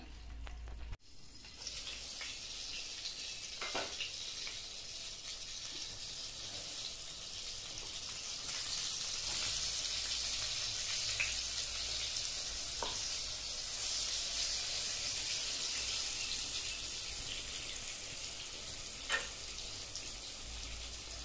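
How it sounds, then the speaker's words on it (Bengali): Pointed gourd (potol) fries in a pan, a soft continuous sizzle with occasional light clinks from the utensil, heard alone and fairly quiet. "পটলটা ভাজা হয়ে গেছে"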